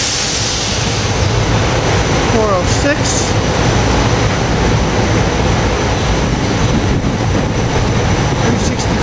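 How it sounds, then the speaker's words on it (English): An airport commuter train rolls into 30th Street Station, a loud steady rumble of rail cars with brief squealing, while someone talks over the noise. "Got the airport train with rail cars 403,"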